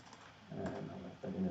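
Password typed on a computer keyboard, a faint, quick cluster of soft key clicks close by.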